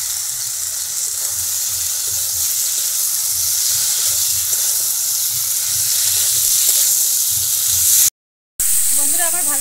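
Fried potato and cauliflower pieces sizzle as they go into a pan of cooked-down spice paste for a village-style cauliflower and potato curry, a loud steady hiss throughout with a brief dropout near the end.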